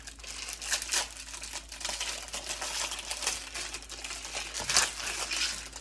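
Packaging for microwave popcorn is unwrapped close by, a continuous run of crinkling and tearing plastic with irregular sharp rustles and one louder crackle near the end.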